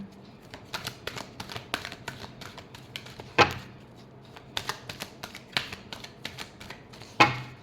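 Tarot cards being shuffled by hand at close range, a run of quick crisp riffles and flicks with a couple of louder slaps as the deck is squared, no talk.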